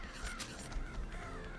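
Crows cawing in a video game, several harsh caws in quick succession at moderate level, with a faint background underneath.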